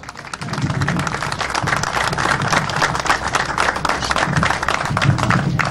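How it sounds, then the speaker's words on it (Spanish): Audience applause at an antique farm machinery festival, steady dense clapping from a sizable outdoor crowd sustained for several seconds at moderate volume with no talk over it. "para quienes en principio pedimos un fuerte aplauso"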